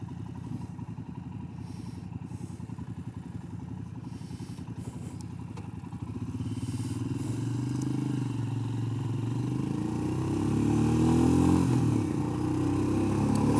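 Royal Enfield Scram 411 motorcycle engine pulling steadily through the gears while riding, a continuous low throb that grows slightly louder after a gear change partway through, with no talking.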